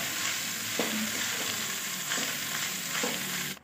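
Egg fried rice with egg white added is stir-fried over high heat, a loud continuous sizzle broken by regular scraping strokes of the spatula roughly every second.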